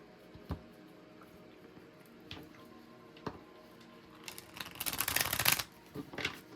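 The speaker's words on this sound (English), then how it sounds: "I just wanted to shuffle them before, so I don't forget, and then shuffle them" Tarot cards are handled with a few soft taps and slides, then a dense, close burst of shuffling that rustles for about a second before settling.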